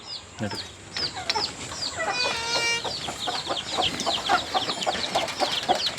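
Free-range native country chickens cluck and chirp in quick overlapping bursts close by on a small farm, with a brief crow-like call among them and steady flock chatter throughout.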